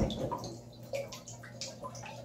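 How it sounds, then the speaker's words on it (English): Cold tap water runs into a bathtub, a continuous close splashing and gurgling stream with small drips and bubbling. "I just ran the water on just cold water"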